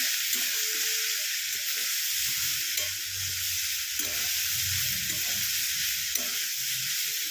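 Beet and carrot curry sautéing in a pan gives a steady, close sizzle with occasional stirring scrapes and clinks, continuous with no talking.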